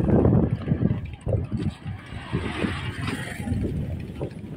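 Strong wind sweeps across a pedestrian footpath on a bridge, buffeting the microphone with a heavy, continuous low roar.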